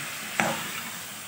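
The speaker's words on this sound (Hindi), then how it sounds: "बस इसको करना है मिक्स" Mixed vegetables with turmeric and salt get stirred in a pan, one quick scrape of the spoon over a soft steady sizzle.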